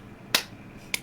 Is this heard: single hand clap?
yes